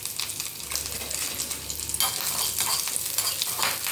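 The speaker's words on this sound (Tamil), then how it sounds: "சும்மா கருவேப்பிலை கிள்ளி அந்த வாசனைக்கு அதை போட்டு தாளிச்சா போதும்." Curry leaves hit hot coconut oil in a tempering with a loud crackling sizzle that flares up twice, followed by steady spitting and frying.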